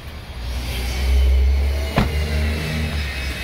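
A 2013 Ford Explorer AWD police vehicle with dual exhaust idles smoothly, a steady low engine hum with a slight swell and one brief click or thump partway through, heard close with no talking.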